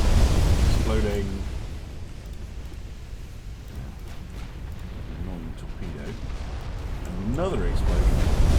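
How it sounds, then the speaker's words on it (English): Another ship blows up in a naval battle in the video game Ultimate Admiral Dreadnoughts, a broad rumbling, hissing roar that is loud at the start, dips, and swells again, with a voice speaking over it. "Another explosion."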